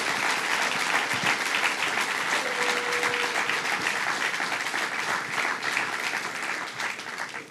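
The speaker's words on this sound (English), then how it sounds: "Give Joe Saladino a round of applause" Audience applause for Joe Saladino at a bill signing held by Governor Cuomo, a full, sustained round of dense clapping from a large room that tapers slightly at the end.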